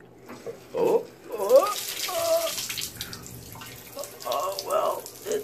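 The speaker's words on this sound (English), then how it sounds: "Here comes the water sound." Water sputters and gushes from a tap in New Orleans after a water outage, coming in uneven bursts with low pressure and gurgling, while a person speaks faintly underneath.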